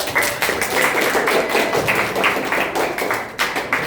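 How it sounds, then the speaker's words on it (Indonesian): Attendees at an Indonesian social studies teachers' forum give a round of applause to a presenter. Dense, close hand clapping continues steadily for a few seconds at fairly even loudness. "Tepuk tangan untuk Pak Jimli."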